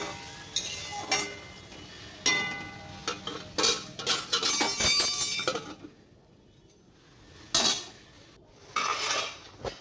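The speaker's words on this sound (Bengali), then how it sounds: "এবার একটু ঢেকে দেবো" A metal pot of hilsa fish curry is handled and covered, with clattering clinks of a lid, spoon and cookware in irregular bursts over a frying sizzle, close by, with a quiet gap partway through.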